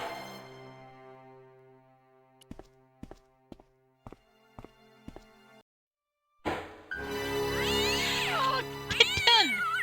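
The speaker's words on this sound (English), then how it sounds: "Oh, kitten!" A kitten meows repeatedly in the Broken Sword point-and-click adventure game, its high, wavering cries coming close and clear over game ambience after a run of soft, evenly spaced footstep-like taps.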